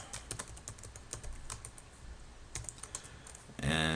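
Rapid keyboard typing while code is entered, a quick run of light clicking keystrokes close to the microphone, ending with a louder burst of sound at the finish.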